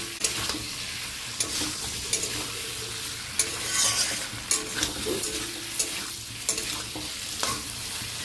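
Potatoes and taro frying in a pan for a vegetarian curry, a constant close sizzle broken by repeated sharp scrapes and knocks of a spatula as they are stirred, with no speech.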